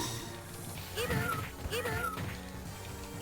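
Cartoonish cat meows from a Capcom fighting video game, two or three short rising mews in quick succession over a steady game background.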